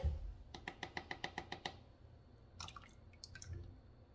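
Lye water solution poured into oils for cold process soap makes a run of quick, close liquid drips and splashes, then softer scattered trickles, with no talking.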